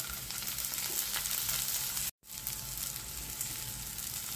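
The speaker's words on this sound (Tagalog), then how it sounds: "maglagay tayo ng konting cooking oil para sa pagisa ng ating onion, garlic, at kamatis" Onion, garlic and tomato sauté in hot cooking oil with a dense, even hiss that runs throughout, cut off by a brief dropout of sound midway before the sizzle resumes.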